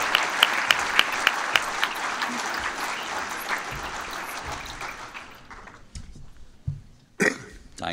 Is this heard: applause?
yes